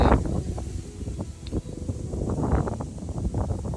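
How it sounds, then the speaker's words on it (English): Wind gusts outdoors in a south-facing rose garden, a steady breathy rush with rustling and buffeting against the microphone throughout. "It's getting a little bit windy."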